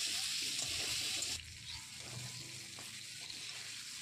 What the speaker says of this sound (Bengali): আলুগুলো লবণ আর হলুদ দিয়ে ভালো করে ভাজবো।